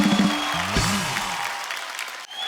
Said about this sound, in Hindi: एक बार जोरदार तालियां गुरु के लिए